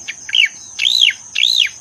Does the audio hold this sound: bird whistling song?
yes